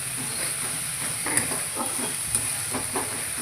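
Spices and turmeric sauté in hot oil for dhaniya chicken, giving a continuous even sizzling hiss with faint scraping stirs and a couple of small clicks.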